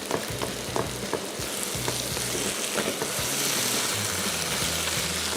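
Eggplant bhujia sizzling and frying in a pan on the stove, with a spatula stirring and chopping through it in repeated scraping strokes over a steady loud sizzle.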